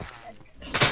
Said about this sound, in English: I wanna break that sand out there.